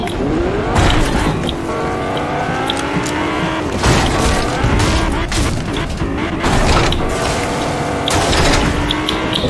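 A tank rumbles along in Fortnite, its loud continuous engine drone mixed with mechanical clatter, booms and repeated bursts of gunfire throughout.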